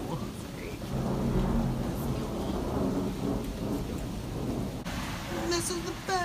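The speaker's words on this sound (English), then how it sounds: "This is the best storm." A night thunderstorm with steady rain and rolling thunder, loud and continuous, the rumble swelling and easing throughout, with no talk over it.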